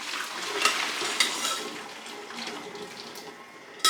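Boiled broccoli water being drained into a kitchen sink, a continuous soft splashing and pouring rush that tapers off, with a brief clatter at the end.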